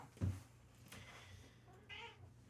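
Voice imitating a happy snake noise in a cat-like way: a short low meow up front, then a faint higher mewing call a moment later, quiet and close.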